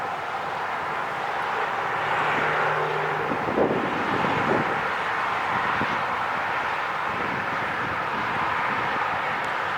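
An American Airlines A321-200 inbound from Honolulu descends toward LAX near the Forum, giving a steady broadband jet roar over wind noise for about ten seconds, moderately loud and fairly constant with no talking.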